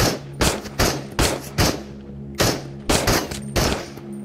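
Gunfire from a rusty Makarov pistol in the video game Into the Radius: about ten sharp, loud shots in irregular clusters, close and alone with no talking.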